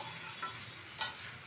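Jackfruit and prawns being stirred with spices in a pan for a Bengali curry, a soft steady sizzle with two brief scraping strokes, close and moderately quiet, no talking.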